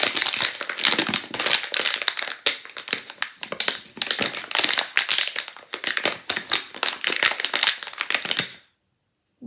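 Crinkled food packaging rustled continuously to imitate the swishing of sea waves, a dense, steady crackling that rises and falls in soft surges for about eight seconds before stopping abruptly.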